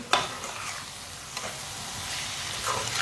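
Chopped tomato and green chilies cook in a pan with a steady close sizzle, a few sharper stirring scrapes standing out near the start and middle, and no talking.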